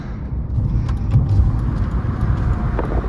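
A BMW E46 engine roars steadily under full throttle, with a dense low rumble and broadband road and wind noise throughout.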